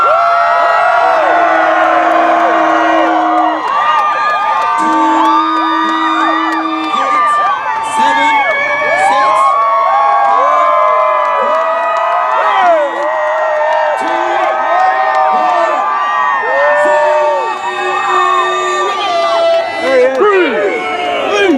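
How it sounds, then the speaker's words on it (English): A large crowd at a Marine Corps recruit depot graduation cheers, whoops and shouts loudly and continuously for the new Marines, with voices calling out throughout. "Make some noise for the new Marines."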